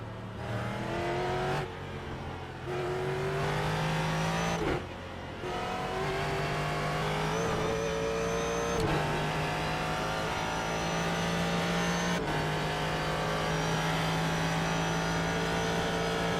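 Ford GT3 race car engine in the iRacing simulator at VIR, loud and close, revving hard and climbing in pitch through the gears with sharp drops on downshifts and braking, no talking.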